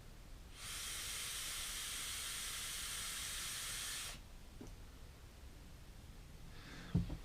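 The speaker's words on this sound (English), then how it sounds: "So let's have another vape." An airy, even hiss of someone inhaling through the airflow holes of a Footoon Aqua Pro e-cigarette lasts about three and a half seconds, starting and stopping cleanly, followed by faint clicks and a soft bump.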